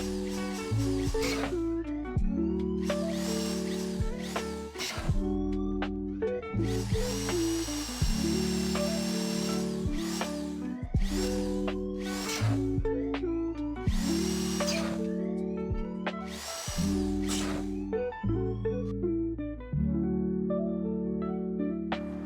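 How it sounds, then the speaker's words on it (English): A drill cutting through a vault door during the GTA Online Diamond Casino heist: a steady, continuous mechanical whine with repeated pitch shifts and short bursts of strain, played alone without talk. "All right, drill through the vault here."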